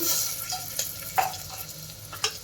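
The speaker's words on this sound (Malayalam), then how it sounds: "നന്നായിട്ട് ഇളക്കി യോജിപ്പിച്ചെടുക്കണം." Ginger garlic paste frying in a pan while being stirred: soft hissing sizzle with a few sharp scraping strokes of a spoon, fairly quiet and close.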